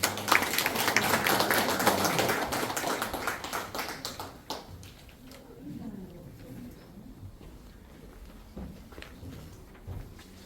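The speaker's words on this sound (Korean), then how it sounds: "큰 박수로 모시겠습니다." An audience at a Korean veterans' policy rally applauds to welcome a speaker, a dense burst of clapping for about four seconds that thins out into scattered claps and room murmur.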